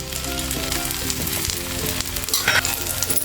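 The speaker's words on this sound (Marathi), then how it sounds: "झाकण लावून मीडियम फ्लेमवर फ्राय करून घ्यायचे" Thalipeeth flatbread fries in ghee on a griddle, giving a loud, continuous, close crackling sizzle with brief bursts of spitting.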